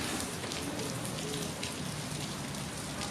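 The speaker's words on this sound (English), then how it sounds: "I don't know where the rain just came from." Rain falls steadily outdoors in a dense, even hiss of drops striking surfaces, constant throughout and with no talking over it.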